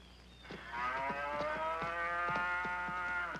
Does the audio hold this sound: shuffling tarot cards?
no